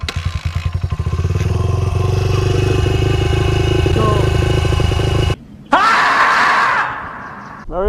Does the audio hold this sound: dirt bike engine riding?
yes